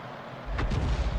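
Birch Gun self-propelled artillery firing a single round in the Ace Tanker tank video game: a sharp crack followed by a deep, booming low-end thump that rolls on, loud and close, with no talking.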